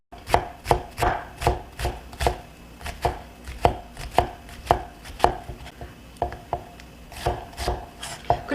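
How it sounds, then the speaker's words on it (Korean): A knife chops onion into small pieces on a cutting board for Chinese-style jajangmyeon, a steady run of sharp, close knocks about two or three per second with no talking. "그리고 나머지 이렇게 남은 양파는요, 그냥 잘게 다시 한번 썰어 주시면 돼요."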